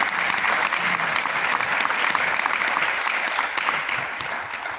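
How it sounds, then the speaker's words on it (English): An award-night crowd applauds parents, with dense, continuous clapping from many hands that forms a steady wash of sound and holds at an even, fairly loud level throughout. "you parents also get a round of applause for the work that you do every single day"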